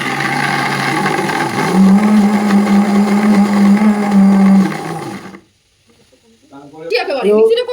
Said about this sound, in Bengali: পেঁয়াজ দেওয়া হচ্ছে রে, শুরু হচ্ছে ভাজতে